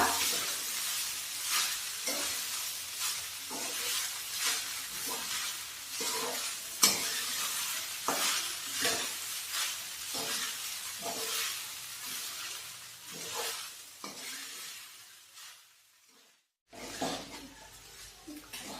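Sabudana khichdi being stirred in a frying pan (kadhai), soaked tapioca pearls scraped in repeated rhythmic strokes over a soft sizzle, with occasional utensil clinks, pausing briefly near the end before resuming.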